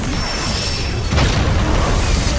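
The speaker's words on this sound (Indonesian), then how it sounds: "persiapan meriam dekomposisi tingkat 9 milik Yuhao telah sepenuhnya selesai dan tanpa menunda lagi, tembakan pun segera diluncurkan." A level 9 decomposition cannon fires in an animated fantasy series: steady loud rumble, then a sudden booming blast with a sweeping whoosh about halfway through that carries on as a heavy roar.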